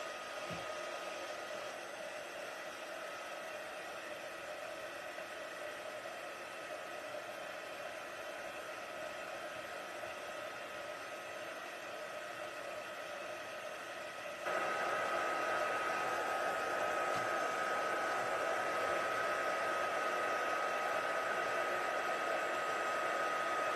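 A heat tool blows steadily while melting embossing powder on a crafting project, a continuous close hiss that gets noticeably louder partway through and keeps going without a break.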